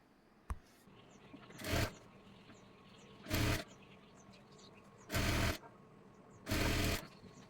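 A sewing machine stitches blouse lining fabric in four separate bursts of about half a second each, regular and close by, with low room noise between them and no talk.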